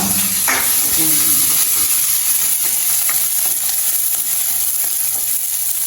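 Onions frying in a pan for a fish curry, a loud, dense, continuous sizzle and hiss up close, with faint stirring clatter underneath and no talking.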